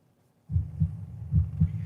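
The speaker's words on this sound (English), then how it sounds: "Starts off with the heartbeat." A heartbeat opening a song, deep paired thumps beating in a slow, steady rhythm close and alone after a brief quiet start.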